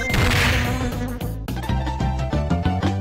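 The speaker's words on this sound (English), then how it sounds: "God damn those fucking bees! Oh, those bees!" An insect-like buzzing swarm of bees, in the style of a cartoon, with loud droning tones overlaid by choppy, rhythmic musical hits and thumps, fairly close and with no speech.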